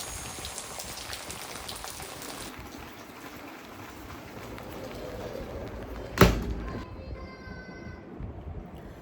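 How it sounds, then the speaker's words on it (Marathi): Steady rain falls in Konkan, a soft continuous patter on surfaces with a sharp knock partway through. Brief faint voices sound near the end. "कोकणातला पाऊस."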